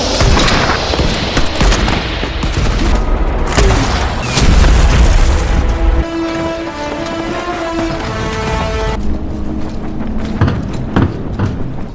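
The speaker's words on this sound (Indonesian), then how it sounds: "Di tengah hujan peluru dari pasukan US, Qianli bergerak dengan sangat lincah" Rapid bursts of gunfire and heavy booms crackle loudly amid chaotic battle noise in a war film of US forces fighting Chinese troops, then give way to a quieter tonal stretch with scattered shots.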